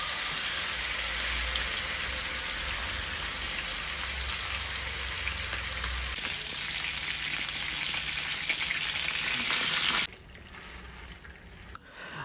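Chicken pieces fry in hot oil with a dense, loud, continuous sizzle that holds steady for about ten seconds and then drops abruptly to a much quieter background.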